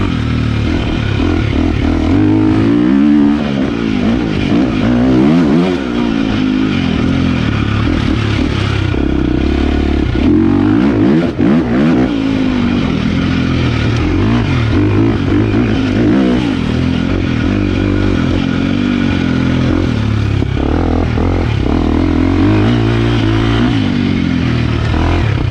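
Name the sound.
2023 KTM 350XCF dirt bike engine revving while riding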